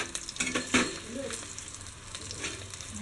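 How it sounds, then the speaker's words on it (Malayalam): Turmeric, onion and chilli frying in oil while being stirred, a steady close sizzle with a few spoon scrapes breaking through. "നന്നായിട്ട് മൂപ്പിക്കുക എണ്ണയിൽ"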